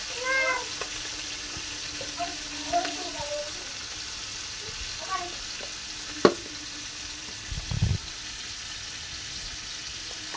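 Shrimp fry in hot oil seasoned with salt and turmeric, giving a steady soft sizzle throughout, while a cat meows faintly several times in the background and a few light clinks sound.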